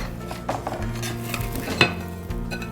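A spatula scrapes beneath fried eggs in a pan for green eggs and ham, producing a few short metallic scrapes and light clinks over a faint sizzle, close and fairly quiet.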